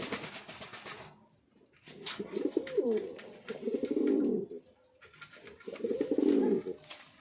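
Fancy pigeons coo at a pigeon farm in three rolling, throaty bursts, close and fairly loud, with quieter gaps between them.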